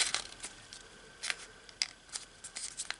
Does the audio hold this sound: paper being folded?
yes